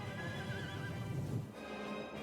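Cavalry horses in the strategy video game Crusader Kings 3, with a horse whinnying over a busy background of hooves and battle noise, fairly faint and continuous, with no speech.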